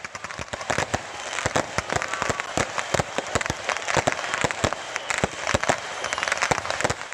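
Dense, rapid crackling bangs and pops burst continuously, like a string of fireworks going off close by, with no pause, at a fireworks festival in Pamekasan, Indonesia, where a faulty firework toppled over.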